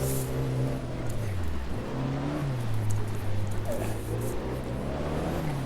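Car engine from the Automobilista 2 racing game, driven off-road on racing slick tyres, with a steady droning hum that rises and falls in pitch through the whole stretch.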